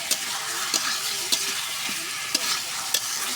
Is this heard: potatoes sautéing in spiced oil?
yes